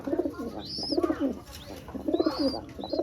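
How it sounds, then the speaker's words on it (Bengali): Pet doves coo in a close, steady rhythm, with repeated low throaty calls in short bursts and a few faint higher chirps. "এই হচ্ছে আমার ঘুঘু পাখিগুলা"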